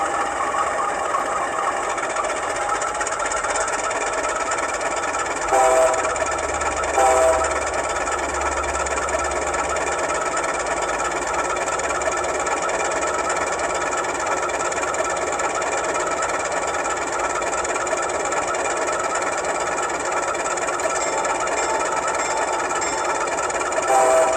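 A steady, throaty diesel engine rumble from the sound speaker of a model U18B locomotive drones continuously at an idle, with a constant buzzy hum and a couple of brief louder bursts.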